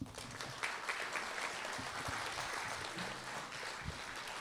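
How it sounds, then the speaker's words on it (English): Audience applause at a middle school spring band concert, a steady, fairly faint wash of clapping heard from within the crowd throughout. "Would you give a round of applause for Travis Pierce, please?"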